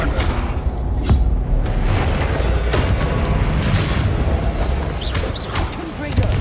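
A Confringo blast spell explodes in Hogwarts Legacy, adding dense booming bursts to a busy, continuous wash of combat effects, with talk running over it throughout.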